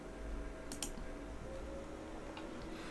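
A couple of quick mouse clicks open an application on a GNU/Linux computer. They come as a sharp double tap early on, then a fainter click later, over a quiet room hum.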